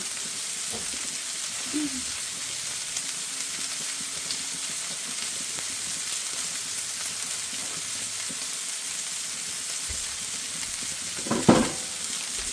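Thin steaks fry in a pan with a steady, bright sizzle and hiss throughout, broken by a short scrape or clatter near the end.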